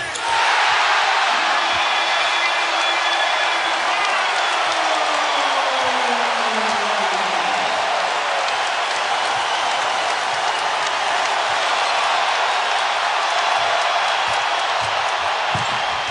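A basketball arena crowd at a Celtics versus Cavaliers playoff game roars with cheers and applause, a loud sustained wash of noise with whoops that dips slightly partway through.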